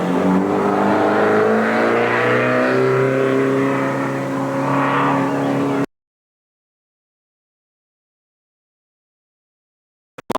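A modified race car engine, car number 7, revs loudly and close at Eugene Speedway, its pitch swelling and rising for about six seconds before cutting to silence, with a faint click at the very end.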